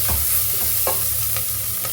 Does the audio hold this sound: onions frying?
yes